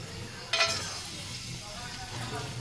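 Whole cardamom pods and cinnamon sticks hit hot oil with a brief loud sizzle burst, then settle into a soft, steady frying hiss for a homestyle Bengali curry of country chicken with taro.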